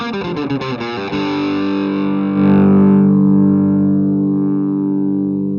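Electric guitar played through the Mooer Preamp X2's Sonic drive model, a quick run of picked notes giving way to sustained, ringing distorted chords that swell and hang, loud and close with no talking.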